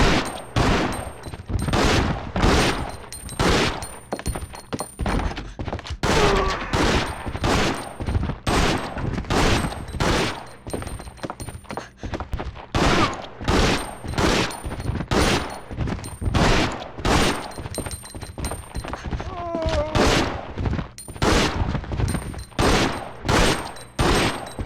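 Repeated handgun shots fired in the Resident Evil Outbreak video game, loud sharp cracks in a steady series across the whole stretch, with only brief gaps between bursts and no talking.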